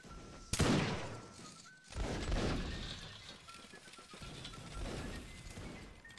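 Musket volley fire in a line-battle video game: a sharp, loud crack followed by rolling, overlapping shots and echoes. Further staggered bursts of fire and crowd noise continue.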